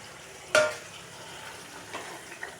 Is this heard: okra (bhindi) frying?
yes